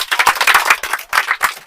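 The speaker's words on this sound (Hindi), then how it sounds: "न्यूटन साहब के लिए ताली।" A small group claps in quick uneven bursts in a classroom physics lesson, sharp near hand claps rising and dipping in a ragged rhythm with short gaps between flurries.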